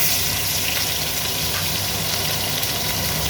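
Fish pieces frying in hot oil in a pan, a steady, loud, broad sizzle that holds without breaks.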